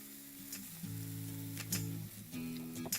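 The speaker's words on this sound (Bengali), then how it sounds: "এটাকে একটু ভালো করে আমি প্রথমে ভেজে নিচ্ছি" Chopped ginger and green chilli fry in a pan, a soft, fairly quiet sizzle with a few light stirring clicks and scrapes, close by and with no voices.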